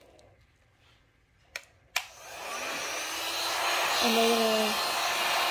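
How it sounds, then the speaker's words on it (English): Heat gun set just below maximum heat blowing hot air onto a tumbler, starting after two clicks and building into a steady rushing hiss with a shifting whine, while a person speaks briefly at the start. "I'm going to take our heat gun. I'm going to set the heat just below max"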